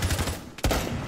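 Rapid gunfire from the Echo hero in Overwatch, a dense rattling fusillade with a sharper burst midway, loud and close over game noise.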